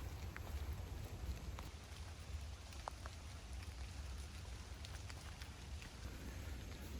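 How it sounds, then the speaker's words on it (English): Steady rain pattering on the leaves of a thick Florida forest canopy near the Suwannee River, a dense, continuous hiss with scattered sharper drop ticks and no voices. "I can hear the rain hitting all the leaves"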